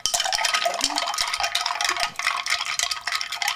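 Ice cubes clink and rattle steadily against a mixing glass as a cocktail is stirred, a close, continuous, rhythmic jangle with no talking.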